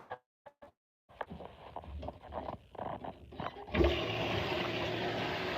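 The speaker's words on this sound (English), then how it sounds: "It starts filling up while still draining for about like a minute or so before actually filling." A washing machine in its rinse cycle, draining and filling with water at the same time, gives a steady rushing, gurgling wash of water that swells louder partway through and then holds at an even level, with no talk.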